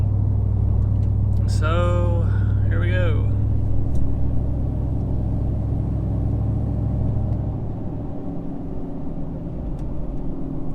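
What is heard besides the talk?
pickup truck with stock tune driving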